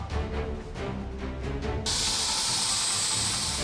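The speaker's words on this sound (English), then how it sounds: "they use steam to meticulously fluff and groom the fur" A garment steamer hisses steadily against a stuffed animal's fur at a Japanese dry cleaner, a close, loud, continuous rush of steam that bursts on abruptly after a softer stretch of handling noise.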